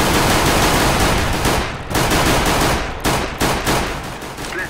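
Loud automatic gunfire in CS:GO, bursts of rapid close shots with brief pauses between them, sharp and dense, no talking.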